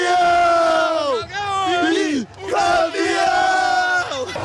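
Atlético Mineiro football fans roar and yell in celebration of a second championship title, loud, close and sustained, with a few brief dips between bursts of massed shouting.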